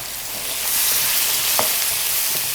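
A whole chopped sweet onion goes into a hot pan for a shrimp and tindora bhaji and sizzles loudly, the frying hiss swelling and holding steady with one faint tap and no voices.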